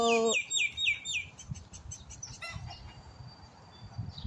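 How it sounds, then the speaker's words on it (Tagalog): Several bright bird chirps ring out at the start, then a few fainter calls follow over a low, rumbling background. "naririnig mo yung huni ng mga birds"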